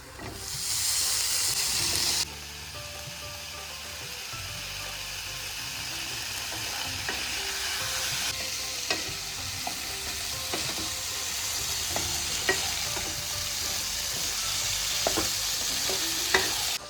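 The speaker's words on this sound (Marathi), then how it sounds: "आता त्यामध्ये आपण बटाटो घालून घेऊया." Potatoes tipped into a hot spiced pan, a loud burst of hiss that quickly settles into steady close frying sizzle with occasional stirring clicks, no voices.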